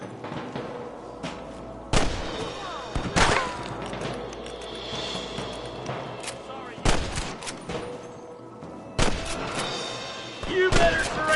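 Gunfire in the Western video game Red Dead Redemption, sharp shots ringing out in four or five loud bursts spaced a few seconds apart over a steady backdrop of in-game ambience, with voices talking around the shooting.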